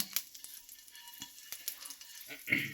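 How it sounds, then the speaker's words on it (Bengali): Whole spices tempering in hot oil, including bay leaf, dried chilli powder, cinnamon, cloves and cardamom. A faint, crackling sizzle is scattered with small clicks and stirring taps, and it grows slightly louder at the end. "এবার আমরা জাস্ট ফোড়ন দেবো তেজপাতা দিয়ে ফোড়ন, তার সাথে এই যে কিছু শুকনো লঙ্কা গুঁড়ো, দারচিনি, লবঙ্গ, এলাচ জাস্ট ফোড়ন দিয়ে দিলাম"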